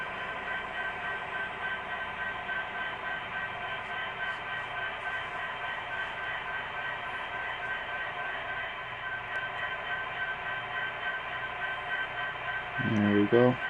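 Union Pacific Big Boy 4015 steam locomotive backing off a turntable in a rail yard, a steady mechanical hum with a faint whistle-like tone, joined near the end by a louder low rumble.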